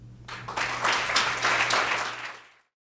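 Applause from a symposium audience after a panel of papers, a dense spread of clapping that swells quickly, holds steady for about two seconds, then stops abruptly.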